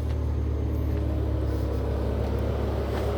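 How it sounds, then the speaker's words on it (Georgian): A completely standard car with stock factory mufflers idles nearby in a workshop, giving a steady low engine rumble and drone that holds even throughout, with no one speaking. "ბაჩოკები ყველაფერი ქარხნული აქვს და აქვს ეგეთი ხმა."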